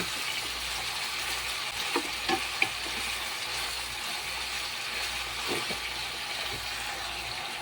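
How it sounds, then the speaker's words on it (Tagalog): Onions and other food fry in a pan, sizzling and hissing steadily while a spoon stirs through them, with occasional scraping clicks against the pan. "At haluhin na natin."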